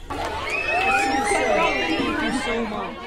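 Crowd of girls at a rock music workshop screaming and cheering loudly together, a dense, sustained wall of high shrill voices with overlapping shouts throughout.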